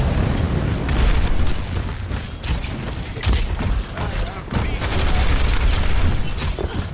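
Enemy turret destroyed in the Overwatch video game, piloted by D.Va in her mech, comes through as a dense, loud wash of mechanical clatter and booming blasts that rolls on without a break.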